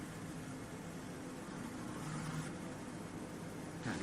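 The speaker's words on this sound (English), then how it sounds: "Engine keeps sound like it's gonna stall." A Formula 1 car engine from the F1 2020 racing game idles roughly on the grid as if close to stalling, a steady low broadband drone holding at faint level throughout with no talk over it.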